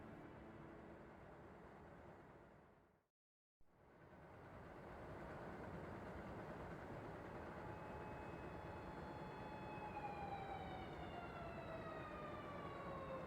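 Police sirens in the video game Yakuza 5 wail with rising and falling tones over a dense, steady layer of game noise, cutting out briefly after a few seconds before resuming and continuing loudly to the end.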